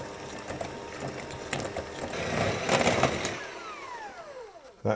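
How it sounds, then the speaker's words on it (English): An electric hand mixer creams butter for walnut and crystallised ginger shortbread, a steady close motor whir with bowl scraping that rises slightly, then spins down with falling pitch as it is switched off. "I'm going to do it with my hand mixer"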